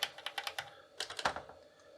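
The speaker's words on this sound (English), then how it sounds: "So for now I can only use the keyboard to move the mouse pointer." Quick clicking keystrokes on an Amiga 2000 keyboard, a rapid burst of taps followed by a few more, close and dry with no talking.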